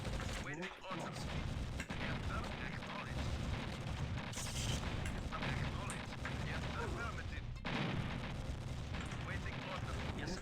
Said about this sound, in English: that's cruiser fire